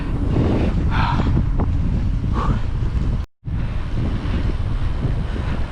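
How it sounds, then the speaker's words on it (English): Strong wind on the coast buffets the microphone with a steady roar, broadband rush of driving rain off a rough sea, briefly cutting out for a moment before resuming. "I am just about to get blown sideways because it is windy."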